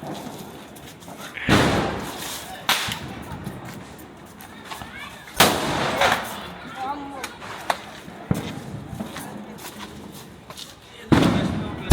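Firecracker bombs go off outdoors in several sharp, loud bangs spread across the stretch, each a sudden blast with short ringing decay, while people talk and call out between them.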